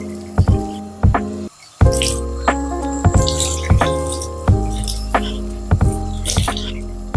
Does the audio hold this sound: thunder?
no